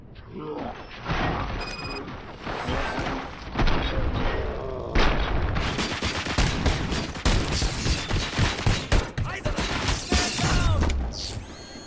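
Gunfire in the video game RoboCop Rogue City, dense bursts of shots and mechanical clatter running through most of the stretch, with a voice speaking briefly near the start.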